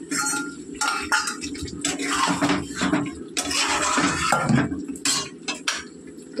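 Egg and potato curry is scooped out of a cooking pot with a metal spoon, giving repeated scraping clinks of utensil on pot that come close and fairly loud and continue steadily throughout, with no speech.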